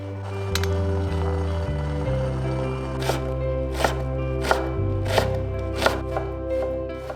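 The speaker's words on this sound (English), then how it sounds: "Preparing a dish by chopping a variety of vegetables and herbs like coriander and mint." Knife chopping vegetables and herbs such as coriander and mint on a board: a few scattered cuts, then a steady run of sharp, evenly spaced chops, close and clear over a low background hum with no talking.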